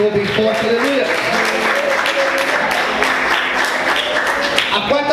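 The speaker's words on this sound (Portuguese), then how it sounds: "Você pode dar glória a Deus e aplaudir o Senhor bem forte, aleluia" A church congregation claps together in a sustained burst of applause, mixed with music and voices throughout.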